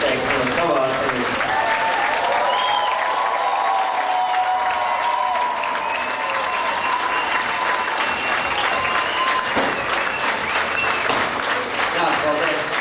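A hall audience at the Mis un Misters Balvi 2004 pageant rises in a standing ovation for ten young contestants, sustained, loud, even clapping with some cheering throughout, while a voice speaks over it.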